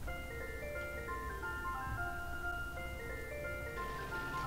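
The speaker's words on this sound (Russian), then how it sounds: "это музыка в этой машинке" A tinkling ice cream truck jingle plays from a car in a video game, a steady bright melody repeating throughout with a faint engine hum beneath and no talk.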